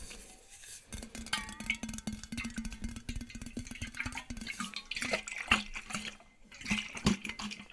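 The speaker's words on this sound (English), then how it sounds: "We can make all sorts of sounds with this water bottle." Water sloshes and gurgles inside a water bottle, heard close up and quiet in an ASMR-style recording, with irregular bubbling, splashing and small clicks moving in fits and starts.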